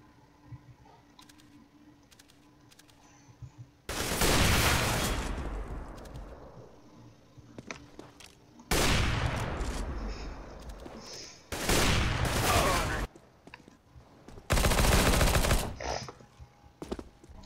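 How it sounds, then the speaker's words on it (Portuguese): Several long bursts of rapid gunfire in CS:GO, loud and close, separated by quieter gaps with faint background game sounds. "Eu dou 500 mil tiros neles"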